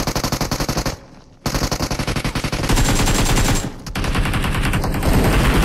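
Automatic weapon fire from a PUBG Mobile match rattles in rapid, loud bursts, pausing briefly twice before a denser sustained stream of shots continues to the end.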